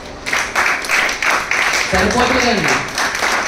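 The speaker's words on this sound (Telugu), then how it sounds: "సో స్పందించిన వాళ్ళందరూ కొంచెం చప్పట్లు కొడదామండి." A church congregation claps together during a worship service, a steady wash of applause running beneath someone speaking over it.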